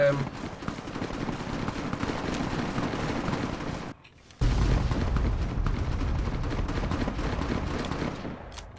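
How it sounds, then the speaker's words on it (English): Dense, rumbling battle noise in the video game Fallout New Vegas, booming explosions and rattling gunfire layered together, cutting out briefly before a heavy low blast returns and continues loud. "why is there an explosion behind me?"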